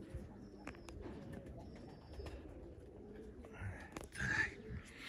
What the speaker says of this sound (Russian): Голуби продолжают